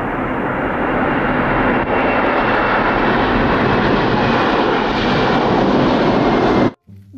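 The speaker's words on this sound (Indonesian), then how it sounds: "lihat teman-teman, ada pesawat terbang" A propeller airplane passes overhead outdoors, a loud, steady broadband engine roar that holds for about six and a half seconds and then cuts off abruptly.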